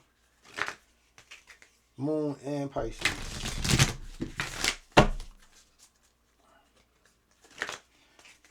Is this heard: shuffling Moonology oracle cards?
yes